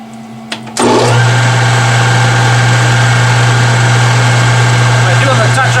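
A metal lathe spins up turning a part at high RPM with a low feed rate, switching on abruptly after a quiet moment and then holding a loud, steady motor hum with a strong droning tone, close by.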